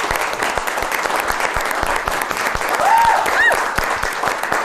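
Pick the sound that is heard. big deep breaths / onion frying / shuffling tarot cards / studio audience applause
studio audience applause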